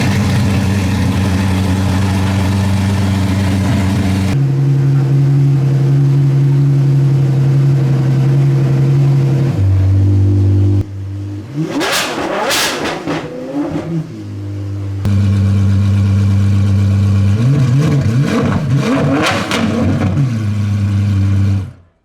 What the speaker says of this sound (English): The IE's exhaust exit from the rear from a very distinctive outlet.